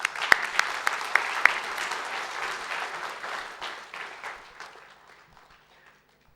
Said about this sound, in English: today we must applaud ourselves for this achievement. Let us applaud ourselves.